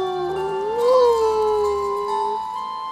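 A dog howls in the video game Everlight, a single sustained wavering cry that rises then slowly falls, loud and close over steady game music.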